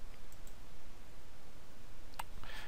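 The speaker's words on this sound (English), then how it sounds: "If you click on the top link," A single sharp computer mouse click on a web link, heard once near the end against a quiet room hiss, with no talking.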